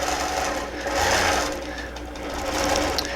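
A sewing machine quilts a flying geese pattern, its needle running in a steady, fast mechanical hum and rapid ticking that swells and eases slightly as it stitches, close and alone without talk.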